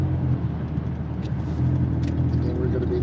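A rusty early-2010s Ram 1500 pickup cruises on the highway, its steady low engine drone and road rumble filling the cabin continuously at an even, loud level.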